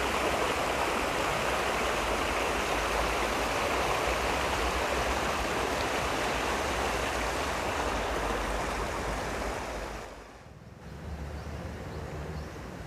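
A river used for a roughly 2 km river-tubing route rushes past in a steady, loud, continuous flow of water, easing slightly near the end.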